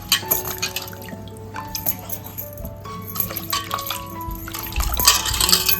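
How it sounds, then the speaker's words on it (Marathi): Water sloshes and drips as vegetables are rinsed in a container, with light clinks and splashes getting louder near the end. "चला आता सर्व व्हेजिटेबल आहेत ना आपण पाण्यामध्ये धुवून घेतोय"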